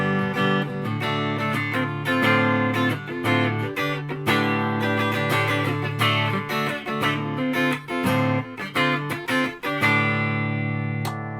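Squier Classic Vibe 60s Jazzmaster (2020) on its neck pickup, played live through a small Laney VC15 amp into a 3x12 cabinet with no pedals: steady strummed chords and runs, loud and continuous, no talking.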